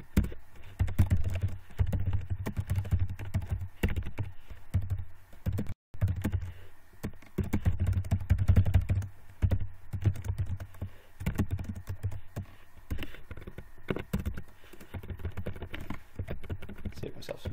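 Rapid clicking of computer keyboard keys, steady and close, with brief pauses between bursts of typing.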